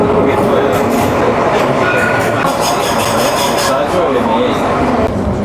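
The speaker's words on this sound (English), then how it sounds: "So we're on the tram going out to the airport." A tram running out to the airport rumbles steadily with a close, continuous rolling roar and some rattling and squealing.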